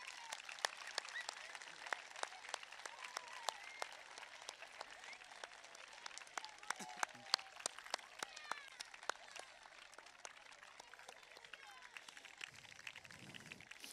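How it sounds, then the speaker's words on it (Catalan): Audience at a children's school choir concert claps steadily and densely for the young performers, a sustained round of applause filling the hall, with a faint low murmur near the end. "Un fort aplaudiment per a ells."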